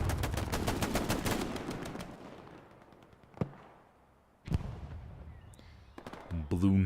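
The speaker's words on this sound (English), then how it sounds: "You hear those huge naval shells flying above." Huge naval artillery shells roar overhead in an online console war shooter: a loud rumbling barrage fades, then sharp close blasts land as the noise swells again near the end.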